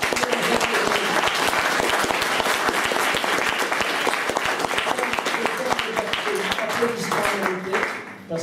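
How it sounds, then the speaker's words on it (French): An audience applauds an ambassador at a French-language talk on elections and democracy in Nagorno-Karabakh, a sustained, dense wash of many hands clapping at steady volume, fading slightly near the end, with a voice speaking beneath it. "je voudrais remercier bien sûr votre ambassadeur, Omanès, on peut l'applaudir"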